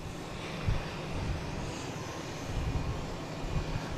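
A Southwest Boeing 737 MAX 8 airliner produces a steady broad engine roar, moderately loud and continuous, with slight swells, and no voices over it.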